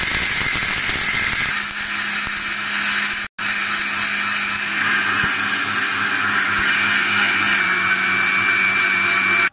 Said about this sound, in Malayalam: നമ്മൾ മിക്സിയിൽ അരിക്കാൻ പോവുകയാണ്.